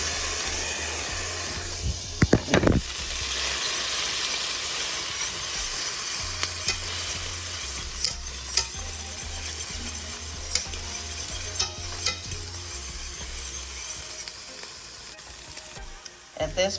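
Minced garlic and eggs fry for Chinese-style shrimp, chicken and beef fried rice, a steady close sizzle broken by sharp scraping stirs and clinks, with no talking.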